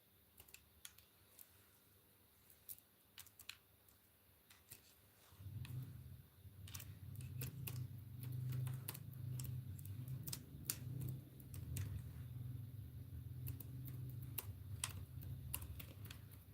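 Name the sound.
typing on a keyboard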